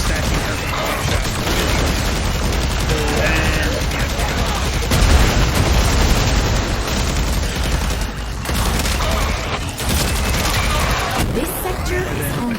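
Protea Prime archgun firing in Warframe, a dense, loud stream of rapid shots blurring into continuous gunfire with heavy low-end thump, barely easing for the whole stretch.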